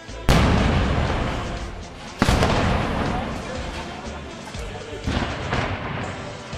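Mortar shells explode nearby during urban combat, with three sharp, loud blasts, each followed by a rumbling decay, while someone speaks between them.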